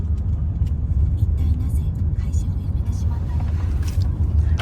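Road traffic rumbles steadily as a car drives, with low engine and tyre noise filling the clip and a few faint voices talking softly underneath.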